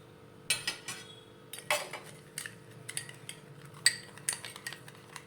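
A spoon stirs spices into a chopped vegetable salad in a bowl, giving a series of sharp metallic clinks and scrapes against the dish in irregular bursts, close and fairly quiet, with no voice.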